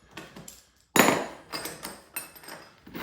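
A metal bolt and two washers come out of a T-nut set into a wooden platform where a combo rack is being bolted down. Sharp metallic clinks and taps sound close by in short bursts, with one louder clatter.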